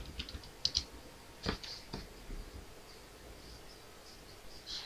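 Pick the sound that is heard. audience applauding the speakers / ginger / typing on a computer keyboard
typing on a computer keyboard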